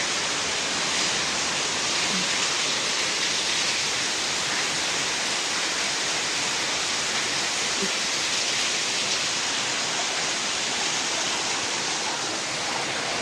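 Afternoon rain falls steadily on a farm where cows are kept, a dense, even hiss that stays constant and fairly loud throughout, with no voices or other distinct sounds.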